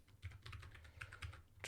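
Quiet typing on a Moonlander split mechanical keyboard, a rapid, slightly uneven run of soft key clicks with no talking.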